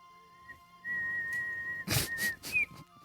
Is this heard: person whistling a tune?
yes